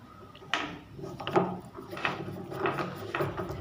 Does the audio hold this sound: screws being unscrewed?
yes